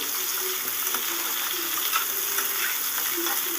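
Eggplant pieces frying in hot oil for a Bengali mixed-vegetable chorchori, giving a steady, dense sizzle with faint crackles that runs evenly throughout, close and fairly loud.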